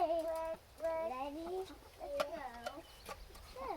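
Backyard chickens cluck and chatter in several short bursts and rising calls, close and clear, with a few faint thumps between them.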